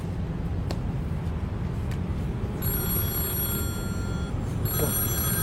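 A telephone rings in bursts over a steady background rumble, the trilling bell coming in twice toward the end.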